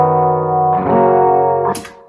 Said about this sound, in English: I'm the only idiot apparently who wants to overdrive an acoustic guitar.